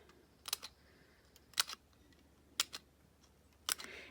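Scissors snip little cuts into paper to make a fringe for a craft embellishment, with four sharp, quiet clicks spaced about a second apart against a hushed background.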